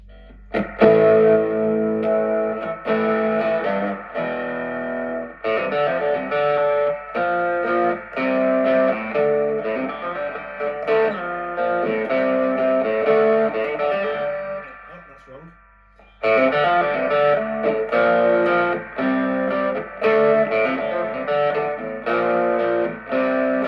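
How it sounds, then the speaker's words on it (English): Electric guitar played through a Boss overdrive pedal into a vintage Audition 15-watt valve head, giving a loud, steady run of driven chords and riffs with one short pause midway and no talking. "Let's give it a bit of overdrive, Boss overdrive."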